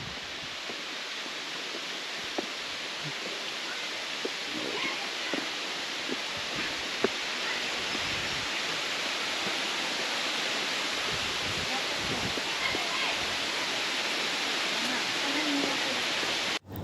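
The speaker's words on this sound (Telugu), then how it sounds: "వాటర్ సౌండ్ అయితే వినిపిస్తుంది" A steady, dense rush of Ranajilleda waterfall near Araku fills the scene, constant and broadband with no pauses, heard up close.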